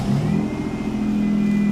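A Dodge Stratus engine running steadily with a rough exhaust leak, a close, continuous low rumble holding even throughout with no talk over it.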